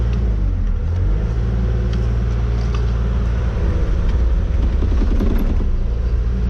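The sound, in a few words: Kubota U48-5 excavator engine idled up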